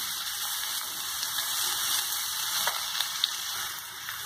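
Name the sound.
frying onion, green and red chillies for lemon rice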